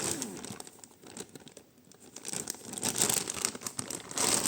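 A plastic bag crinkles during the unpacking of a parcel of vintage jewellery, mostly chains. Close, irregular rustling that dips briefly and then grows into louder, denser bursts.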